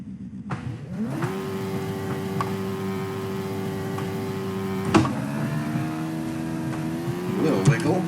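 Hayabusa-swapped Mazda Miata drag racing a 240 horsepower Lotus Exige S240 in the Assetto Corsa driving game, engine rising in a steady high-revving drone with gear-change breaks and a late surge, loud and continuous.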